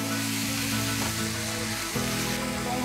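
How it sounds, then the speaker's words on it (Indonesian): Chicken and cabbage stirred in sweet soy sauce in a pan, a steady close sizzle with faint scraping of the spoon running throughout, no voices. "Kita aduk."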